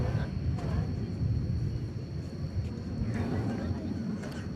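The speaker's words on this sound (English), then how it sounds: "An American Airlines 737-800 is departing for El Paso," An American Airlines Boeing 737-800 departing from DFW Airport gives a broad low jet rumble at a distance, steady across the clip, with faint voices in the background.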